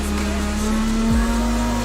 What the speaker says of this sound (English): As we get some annoying revs from behind me to come down the main straight